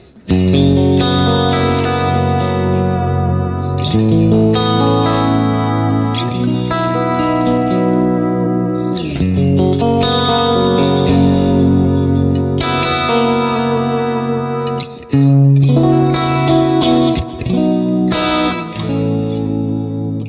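Electric guitar chords played through a 3D stereo effect ring out with a wide, shimmering chorus and echo, notes swelling and trailing off in long reverberant tails.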